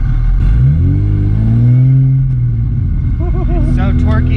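Engine of a turbocharged Toyota MR2 with a 3SGTE engine rising in pitch as the stiff throttle is pressed, revving up then easing off, with people talking over it inside the car.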